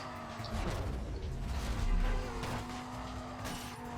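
A Dodge Viper boosted by nitro in the racing game Need for Speed Carbon roars loudly and steadily, its engine drone and tire noise holding high for the whole stretch with no talk over it.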